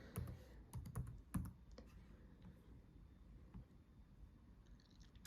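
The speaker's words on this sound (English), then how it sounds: "I can type whatever I want." Typing on a computer keyboard while working in design software: a quick burst of close, crisp key clicks, then sparser taps fading into quiet room noise.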